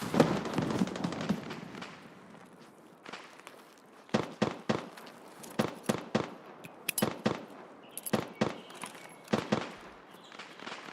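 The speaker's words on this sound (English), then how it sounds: "Did that grenade just bounce at me?" A grenade bounces and explodes amid a video game firefight, with sharp repeated bangs and cracks scattered through busy background noise.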